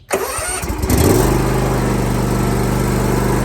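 A Gravely ZT HD 52-inch zero-turn mower engine cranks briefly on choke at half throttle, catches, then settles into a loud, steady running drone close by.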